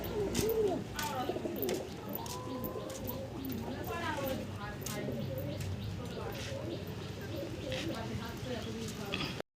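A set of young racing pigeons keeps up steady, throaty cooing nearby, with rolling calls layered continuously under a voice speaking.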